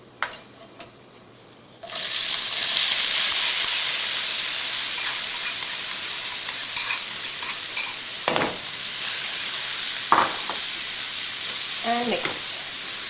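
Onions hit hot oil already seasoned with whole spices such as green cardamom, setting off a loud, steady sizzle that holds throughout, with a few clinks and scrapes of stirring and no talking.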